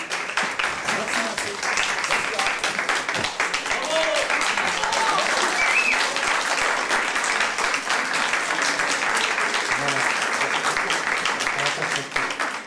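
Sustained audience applause at a café discussion event, steady dense clapping lasting over twelve seconds at even loudness, with some voices mixed in underneath.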